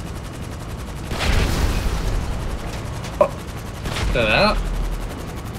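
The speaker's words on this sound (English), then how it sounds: "I think someone's shooting at me." Gunfire in GTA Online during a mission, heard as a few dense bursts of shots and a sharp single crack mixed into busy game sound, with someone speaking briefly.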